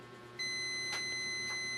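A digital multimeter in buzzer mode testing a capacitor gives a steady, sustained electronic tone that starts abruptly and holds, with faint clicks of the probes over it.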